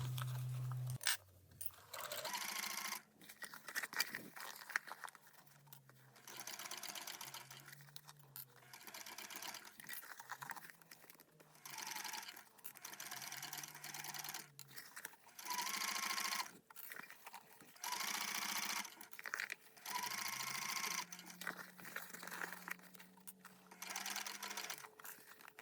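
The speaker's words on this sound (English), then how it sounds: "Sew the facing to the lining along the top edge using a 3/8 inch seam allowance." Home sewing machine stitching a crossbody bag's facing to its lining along the top edge, running in repeated short bursts with brief pauses between, fairly quiet and close, with no talk.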